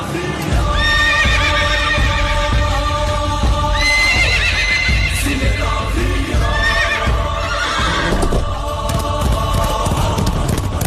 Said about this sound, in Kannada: ಈಗ ಮತ್ತೊಂದ್ಸಲ ನನ್ ಕುದುರೆ ಬರ್ತತಿ.